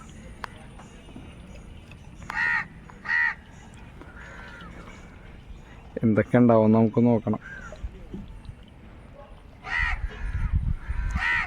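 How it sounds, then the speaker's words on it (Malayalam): Crows caw repeatedly in short harsh bursts, some close and loud, gathering over a Chinese fishing net being hauled, while a person talks in between over steady outdoor background noise. "വല വലിച്ചപ്പോൾ തന്നെ കാക്കകളൊക്കെ നിറച്ച് കൂടിയിട്ടുണ്ട് കേട്ടോ"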